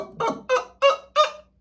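A singing voice imitates a chicken, four short clucking notes, each cut off abruptly by the vocal folds, in a steady rhythm, close and loud.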